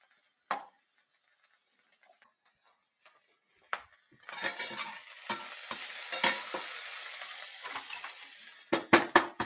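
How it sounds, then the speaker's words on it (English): Meat frying in tallow in a pan: after a couple of quiet taps, a bright sizzle builds and holds, with frequent scraping stirs and a few sharp clinks of utensil on pan near the end. "Bit more tallow into the pan."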